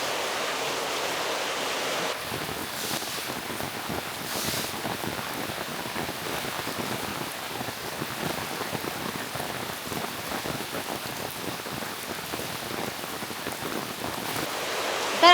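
Heavy Konkan monsoon rain pours down in a steady, dense hiss of drops drumming on surfaces, loud and unbroken throughout with no voices.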